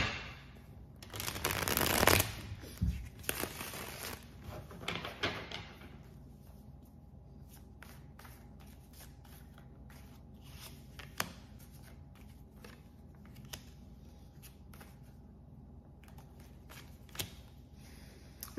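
A quick burst of tarot cards being shuffled, followed by softer scattered taps and slides of cards being handled close by in a quiet room.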